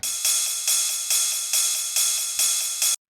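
Bright ride cymbal hits on the downbeat and upbeat repeat at a steady even pulse, each strike washing out before the next, looping alone in a hard melodic schranz techno track.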